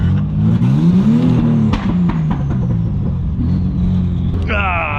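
Nissan-powered Mazda Miata drift car engine revving loud and close, its rising, sustained roar running throughout with a sharp higher whine near the end, while someone talks over it.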